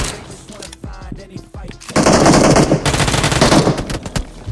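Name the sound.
gunfire in BGMI video game fight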